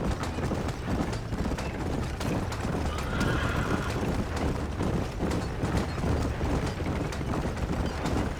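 A horse-drawn wagon rolls along in Red Dead Redemption, with loud continuous hoofbeats, occasional whinnies and rattling wheels and harness, busy and close for the whole stretch.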